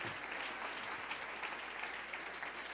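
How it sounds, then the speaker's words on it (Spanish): Church congregation applauding during a Sunday morning sermon, a soft, even wash of many hands clapping that sounds distant and quiet yet continues without a break. "Denle un aplauso al Rey en esta preciosa mañana."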